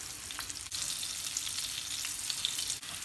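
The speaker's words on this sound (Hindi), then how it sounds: "विंग्स फ्राई हो रहे हैं, बहुत अच्छा सा कलर आ रहा है इनका।" Chicken wings deep fry in hot oil over medium heat, giving a dense, even crackling sizzle that holds steady throughout with a couple of brief dips.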